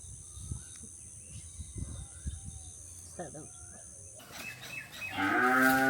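A cow moos near the end, loud and close, after a stretch of background chatter and a high steady hum.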